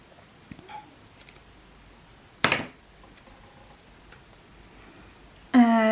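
Scissors snip through a paper sticker on a box at a desk: one sharp, close cut stands out, with faint ticks and rustles around it and a brief higher-pitched noise at the end.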